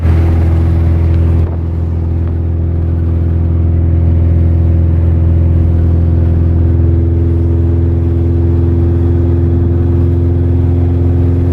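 A car engine idles steadily and loudly close by, with a deep, even rumble and a faint rise in pitch near the start, after an intake air control valve repair and a swap to an ECU without oxygen sensors.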